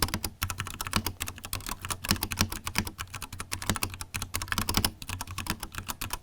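Fingers type quickly on a custom mechanical keyboard with tactile switches, a dense run of crisp, close key clacks in uneven bursts with brief pauses, heard alone with no talking.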